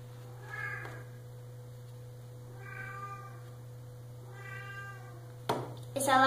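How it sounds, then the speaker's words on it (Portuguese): A cat meows three times in drawn-out calls over a steady low hum, followed by a sharp click and a brief louder noise at the end. "Esse alarme que tá tocando é a minha gata"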